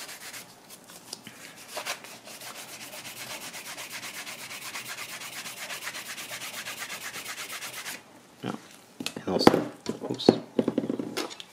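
Steady rubbing of a leather edge being cleaned of residue ahead of dye and wax finishing, a continuous dry scratchy friction lasting several seconds, then stopping and giving way to a few sharper handling knocks and brushes.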